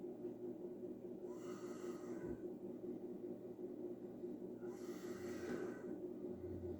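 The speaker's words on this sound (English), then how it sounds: "Let's sniff the can first." Two slow, close sniffs through the nose at a can of coffee lager, a few seconds apart, over a faint steady hum with no talking.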